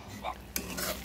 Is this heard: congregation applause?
no